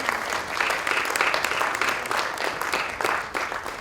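An audience at a literary award ceremony claps steadily for an honoree, sustained loud applause from a full room throughout.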